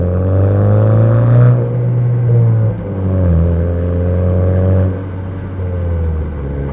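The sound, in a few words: car exhaust revving with aftermarket muffler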